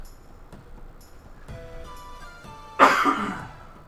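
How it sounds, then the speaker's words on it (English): A single harsh cough from someone recovering from a cold, close and loud, following a quiet stretch with faint background tones. "I'm gonna cough a lot because I'm still recovering from it."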